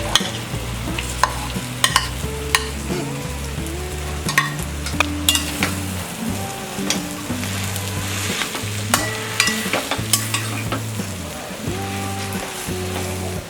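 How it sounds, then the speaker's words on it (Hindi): Boiled mashed potatoes sizzle in a pan while a spoon stirs and scrapes repeatedly, for a street-style vegetable frankie filling; the frying is close and continuous. "अब हम इसमें डालेंगे ये बॉइल्ड और मैश्ड पोटैटोज़।"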